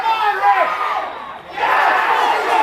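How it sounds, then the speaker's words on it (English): A crowd roars loudly at a Gaelic football intermediate final, a dense shouting cheer that swells, dips briefly and surges again. "Big loud cheer for Dungarvan there as Patrick was pulled back for steps."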